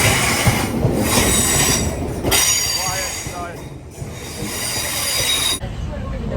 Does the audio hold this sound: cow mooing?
no